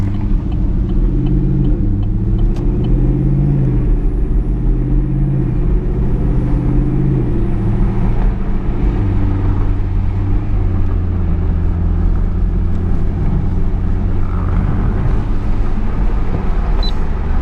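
A 2018 Chevrolet Camaro SS with an MBRP 3-inch quad axle-back exhaust cruising in Houston with the windows down, a loud, continuous low engine and exhaust drone with gentle rises and falls in pitch and steady road rumble.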